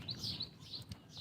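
Faint, high chirps from small birds perched on a wire repeat in short bursts against a quiet, low background hum.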